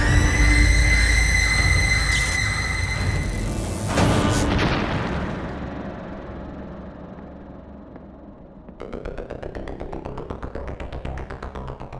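An electrical blast erupts in a horror drama, a sharp loud boom around four seconds that decays into a fading rumble, with another burst of crackling noise rising near the end.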